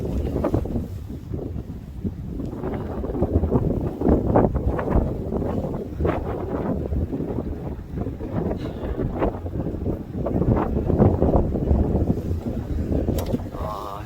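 Steady wind rumbles and buffets the microphone outdoors at Dadaepo Beach in Busan, with low roaring gusts rising and falling throughout and faint voices underneath.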